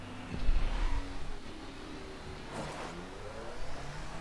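A sports bike engine revving in the racing game The Crew, a mid-pitched motor rising and falling in pitch with a louder surge at the start and shifting whine as it accelerates.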